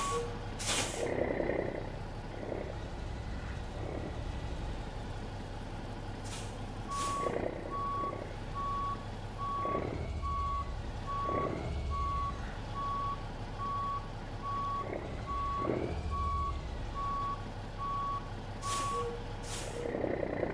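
A truck in American Truck Simulator backs out with a steady series of evenly spaced reversing beeps, punctuated by sharp air-brake hisses and the low rumble of the engine.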